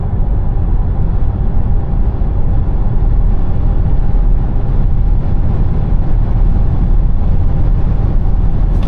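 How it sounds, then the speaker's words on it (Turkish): Skoda Enyaq Coupe electric car accelerating at full throttle on a motorway from around 120 km/h, a constant loud rush of road and wind noise inside the cabin with a faint motor whine. "Dip gaz yaptım."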